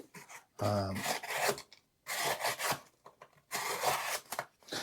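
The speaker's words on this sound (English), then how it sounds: "Slicey blade cuts through the cardboard really easy." Rasping scrapes of a Leatherman Surge knife blade cutting through cardboard, three separate strokes with short pauses between them, close and fairly loud.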